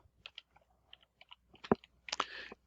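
Keyboard typing while writing Python code, heard as quiet, irregular clicks and taps that bunch into a denser flurry of keystrokes near the end.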